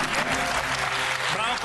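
A studio audience at a TV quiz show claps steadily and loudly, a dense unbroken wash of applause that fills the whole short stretch with no gaps.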